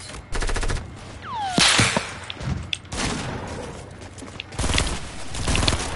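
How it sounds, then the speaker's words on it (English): Rapid bursts of video game gunfire in Fortnite crackle close and loud in repeated volleys, with sharp shots and whip-like cracks in between; no one speaks. "I'm getting shot at from behind and everything, bro."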